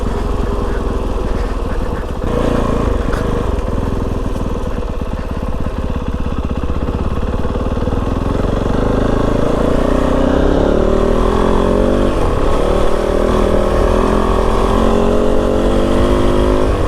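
Kove 450 Rally dual sport motorcycle riding over rocky ground, a loud continuous single-cylinder engine drone that rises in pitch as the bike gathers speed, with rough wind and terrain noise throughout.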